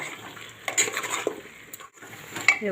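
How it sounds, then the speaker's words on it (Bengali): Mutton is stir-fried in a pan with a few close metallic clanks and spoon scrapes over a quiet sizzle, and a short pause near the end. "বেশ কিছুক্ষণ সময় ধরে ধরে কষিয়ে নিচ্ছি"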